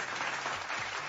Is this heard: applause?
yes